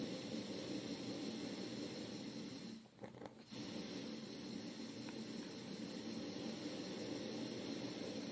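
A lighter-gas portable hookah charcoal burner gives off a steady, close flame hiss that drops out briefly and then returns at an even level.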